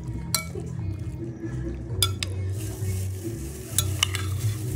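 Sardines frying in a pan with tomato, onion and a fried egg, a steady sizzle under stirring and scraping, with a few sharp clinks of utensil on metal.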